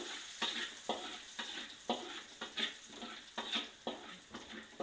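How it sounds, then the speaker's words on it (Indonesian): Garlic sautés in very hot oil over lowered heat for pork meatballs, a loud continuous sizzle with a rhythmic series of spatula strokes and scrapes, no talking. "Kita langsung masukkan aja bawang putih. Boleh kita kecilkan apinya. Kita tumis hingga dia harum."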